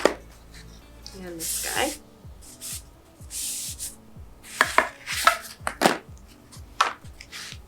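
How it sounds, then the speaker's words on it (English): A rag rubs dust off freshly sanded wooden trim on kitchen cabinets in a series of short, scratchy swipes at close range, mixed with brief talk. "I'm gonna use a rag. I'm gonna wipe off these guys because I just sanded them"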